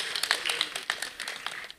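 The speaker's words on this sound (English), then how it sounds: "A round of applause for him, please." An audience at a World Data Privacy Day celebration gives a brief burst of applause for a past CIPM president, a short patter of clapping that fades out within two seconds.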